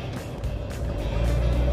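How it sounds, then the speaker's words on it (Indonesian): Modified Isuzu Panther diesel car accelerating hard on kick-down, a close, steady engine roar that swells and deepens over a couple of seconds inside the cabin. "Kita mau coba dulu kick down."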